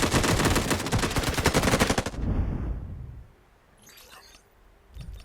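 A loud sustained burst of automatic gunfire from Delta Force Mobile, fast evenly spaced shots for about two seconds, then quieter fading echoes and a few distant pops.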